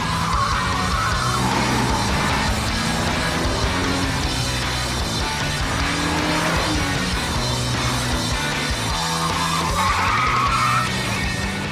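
A 2002 Porsche 911 Turbo is driven hard, its engine roaring under sustained tyre squeal and skidding that swells and fades across the run, loud and close with no speech.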